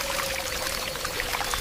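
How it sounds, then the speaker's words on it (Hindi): Water pours steadily onto the ground in a cartoon scene where birds water freshly sown soil, a continuous close splashing stream that cuts off abruptly at the end. "बीज बोने के बाद वे ज़मीन को अच्छे से पानी दे रहे थे।"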